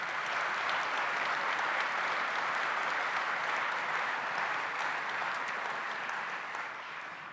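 An audience applauds Coach Curt Cignetti at a Boys To Men event: a dense, loud wash of clapping holds steady for about seven seconds, then eases slightly at the end.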